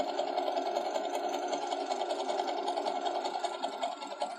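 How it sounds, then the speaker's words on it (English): A sewing machine stitches cotton fabric in a fast, steady mechanical whir and rattle, continuous and fairly close, with no talking over it. "I'm going to keep sewing away here."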